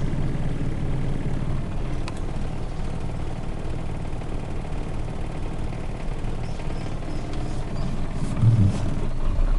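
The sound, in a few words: Suzuki Katana engine idling, vibrating from worn engine mounting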